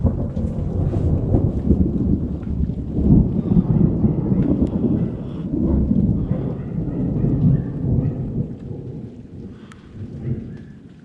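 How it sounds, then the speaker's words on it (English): Steady rain and rolling thunder over a farm, a continuous broadband wash of rain with low rumbling swells throughout, fairly close and unbroken. "Thunder and rain."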